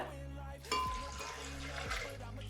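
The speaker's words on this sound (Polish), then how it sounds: "Wlewamy wodę." Water splashes and trickles into a blender, with a couple of brief gurgling pours against a steady liquid rush, while making a pumpkin, apple and carrot smoothie.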